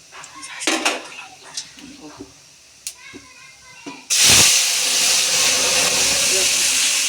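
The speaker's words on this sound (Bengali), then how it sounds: "এখন সরিষা ফোড়ন দেওয়া হলো, দিতে থাকেন" Mustard seeds hit hot oil in a pan for a tempering, a sudden loud sizzling hiss that bursts in about halfway through and holds steadily. Scattered clinks of utensils and pans come before it.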